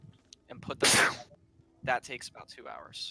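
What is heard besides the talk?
sneeze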